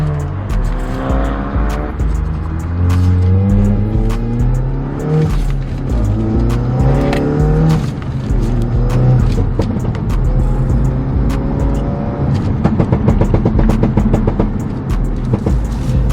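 Manual-swapped AWD Skoda VRS230 with a Golf R gearbox and Haldex system, 320hp, revving hard through rising gear pulls, close and loud with engine drone climbing and dropping between shifts.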